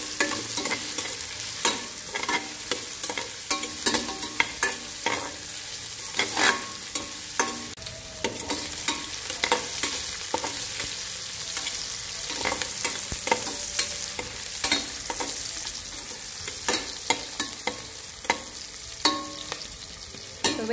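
Chicken sautéing in a pan with onion and ginger, a continuous loud sizzle punctuated by frequent irregular spatula scrapes and clacks, close up and without talk.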